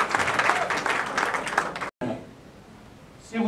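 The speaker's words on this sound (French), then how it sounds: "Applaudissez s'il vous plaît." Guests applaud at a civil wedding ceremony, a dense burst of clapping that cuts off abruptly, followed by a quieter room.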